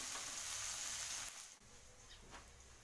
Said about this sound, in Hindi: लो फ्लेम पर हम इसे थोड़ा गोल्डन ब्राउन होने तक पकाएंगे